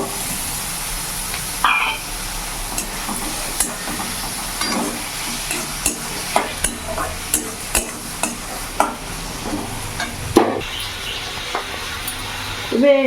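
Chopped shrimp sizzles in a pan with half-fried onion and pointed gourd seeds, a steady frying hiss broken by regular scraping strokes of a spatula stirring the mix, heard close up.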